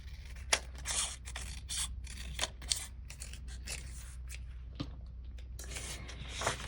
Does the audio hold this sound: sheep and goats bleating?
no